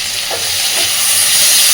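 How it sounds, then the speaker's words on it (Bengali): Shrimp and onion fry in a hot pan with a loud, continuous sizzle and a steady steamy hiss, plus a faint stir or two. "তো চিংড়ি মাছটা দেওয়ার পরে খুব ভালোভাবে একটু ভেজে নেব পেঁয়াজটাকে"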